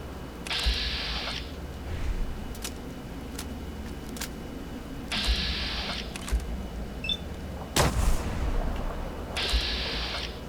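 Gunfire in the PC game Fallout, with three loud bursts of shots and a few sharp isolated cracks and clicks between them over a quiet hum.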